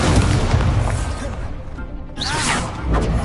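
A fire spell cast in a wizard video game gives a loud, booming burst at the start, then a fading crackle and a short whooshing swell near the end, with no talking.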